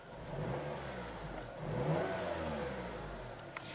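Turbocharged engine of a 2007 Acura RDX revved while parked, one steady rise and fall in engine pitch, heard from close by and without voices.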